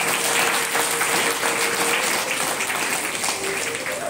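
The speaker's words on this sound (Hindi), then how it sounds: "तो इन दोनों के लिए और मैं तालियां दूंगा।" Sustained applause from an audience at a drama event, a dense steady wash of many hands clapping together at even loudness throughout, with no voices rising above it.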